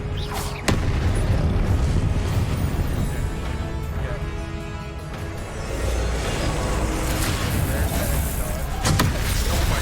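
Confringo fire-blast spell in the wizarding game Hogwarts Legacy, heavy booming impacts and rumbling over a dense, continuous game soundscape, with a couple of sharp crack-like hits near the start and end.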